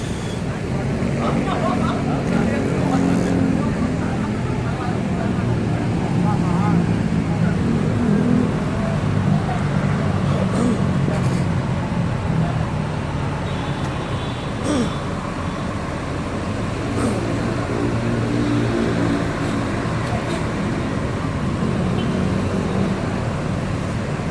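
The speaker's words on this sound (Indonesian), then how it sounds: "Inilah keadaan terminal Pondok Pinang," Buses and traffic rumble steadily through the Pondok Pinang bus terminal at Lebak Bulus, Jakarta, with engine drone, occasional clanks and a constant busy din, and voices talking intermittently throughout.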